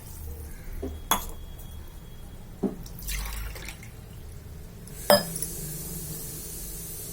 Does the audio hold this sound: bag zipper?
no